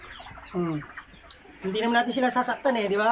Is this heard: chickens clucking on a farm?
yes